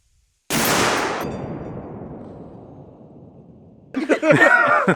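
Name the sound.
gunshots from a PSA PA-15 AR rifle chambered in .223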